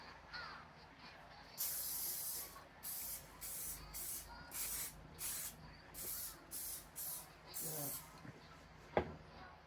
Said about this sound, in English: First, I need to spray it down with non-stick spray.